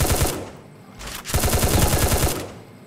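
Rapid machine-gun bursts in the mobile shooter Free Fire, two loud sustained volleys of closely spaced shots broken by a short pause, with no talking.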